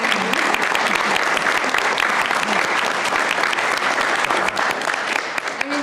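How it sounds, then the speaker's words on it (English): A crowd at a Troy, Michigan school board regular meeting applauds loudly and steadily throughout, a dense, even wash of clapping with no speech over it. "can we just give a round of applause for Mr. Butcher?"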